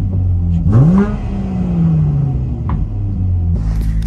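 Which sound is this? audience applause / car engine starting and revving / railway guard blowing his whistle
car engine starting and revving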